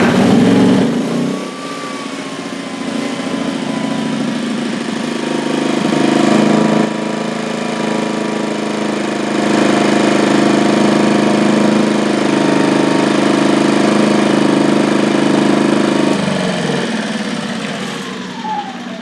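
A Ryobi 2300/1800 generator engine runs steadily and loudly close by, a continuous buzzing drone that dips slightly in places without stopping, with no talk over it.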